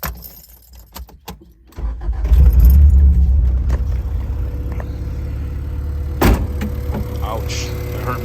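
A 1994 Honda del Sol is started after a jingle of keys: a short crank catches quickly, and the engine settles into a steady, close idle with a brief clatter midway.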